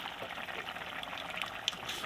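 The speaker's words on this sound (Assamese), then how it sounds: "এতিয়া আমি ইয়াত পানী উতলিব ধৰিলে দেখিছে না" Steady, faint bubbling and hiss of water boiling in a covered pot over a village cooking fire, with a small sharp tick near the end.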